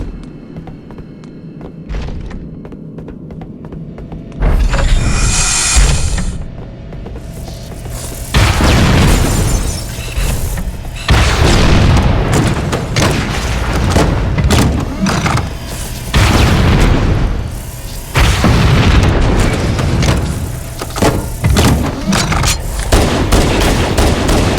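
Rocket launcher blasts in the video game Halo Combat Evolved, a series of loud booming explosions repeating every few seconds, close and dominant, with crackling gunfire between them and no talk.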